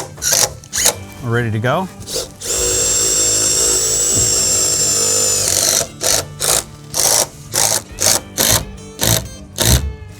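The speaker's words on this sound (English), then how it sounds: "now I'm gonna go ahead and start screwing this bracket to the top of this beam" A bracket being screwed down onto the top of a wooden deck beam, a power driver whirring steadily for about three seconds, then a run of short bursts; someone speaks briefly beforehand.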